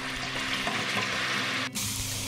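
Diced meat fries in oil in a pot, giving a steady close sizzle and crackle with light stirring noises throughout and no talking.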